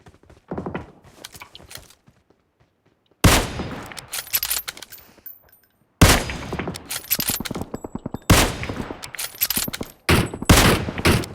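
Gunfire in an online shooter game, with loud bursts of close rifle shots and rapid volleys in several clusters separated by brief quiet gaps.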